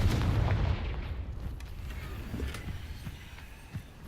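A Confringo fire spell explodes in Hogwarts Legacy: a loud, low, rumbling boom at the start that rolls into a decaying roar with a few faint later thumps.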